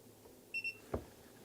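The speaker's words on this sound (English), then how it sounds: "I hit the enter button and it will beep" Two quick high electronic beeps from a Haloview backup camera system with tire pressure monitoring, confirming a setting after pressing enter, sound close together in a quiet room, followed by a soft click.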